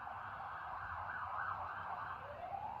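A distant emergency vehicle siren wails and sweeps in pitch as it passes, fairly faint over a steady low hum, with no talking.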